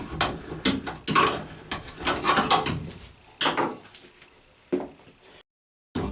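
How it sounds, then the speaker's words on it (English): A metal wrench works on a Delta shower faucet during a dripping-water repair, giving close, irregular clanks, scrapes and rubbing bursts that fade toward a quiet pause near the end. "I'll take that wrench again."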